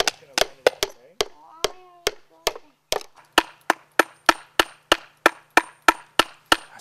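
Hammering on a wooden birdhouse during a craft project: sharp, close wooden thwacks, first irregular, then a steady rhythmic run of evenly spaced strikes, with brief voices in between.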